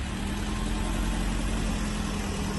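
Assault-style Bukhanka van fitted with an exhaust, its engine idling steadily with a continuous low rumble and vibration, close by and alone without any voices.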